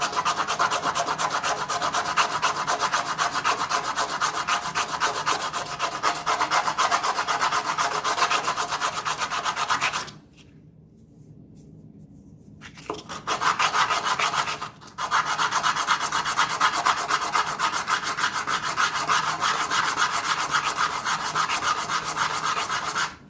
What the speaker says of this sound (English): So I'm going to break off these pieces off the back and sand it down to make it smooth.